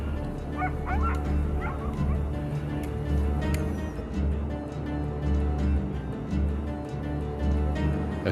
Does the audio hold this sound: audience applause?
no